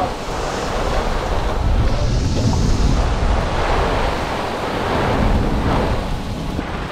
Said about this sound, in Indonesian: cuaca sekarang ni dengan hujan lebat dan angin yang kuat lah. Dengan alun pun yang memang kuat lah alun kan.